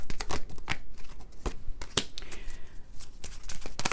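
Love oracle cards are shuffled by hand, with quick, loud papery riffles and slaps repeating in an irregular rhythm, close up, with no speech.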